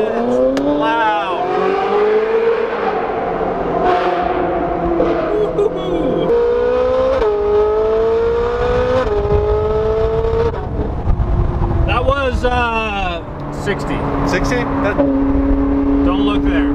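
A loud naturally aspirated Ferrari engine revs and roars steadily, pitch climbing and falling, with people talking over it throughout.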